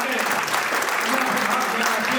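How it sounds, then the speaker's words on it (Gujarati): Dense, continuous applause from an audience at a community education society program, sustained and fairly loud, with a faint voice underneath. "મિત્રો તાળીઓનો ગડગડાટ ઓછો ન થાય આપણા દાતાઓ માટે"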